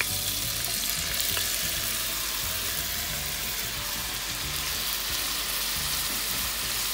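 Shrimp frying in oil for chowmein, a dense, even sizzle and crackle that runs steadily throughout at close range with no talk.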